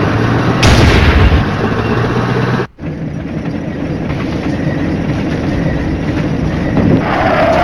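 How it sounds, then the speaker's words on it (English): Enemy artillery striking in the video game Flashpoint Campaigns: a loud, sustained rumbling roar of shelling with a sharp burst near the start and one brief dropout midway, steady and dense throughout without speech. "Uh-oh, enemy artillery striking us right there."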